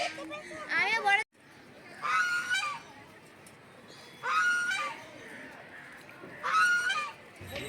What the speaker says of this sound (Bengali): একটা অনেক বড় খোলা জায়গায় রয়েছে অনেক বড় বড় হাঁস আর রাজহাঁস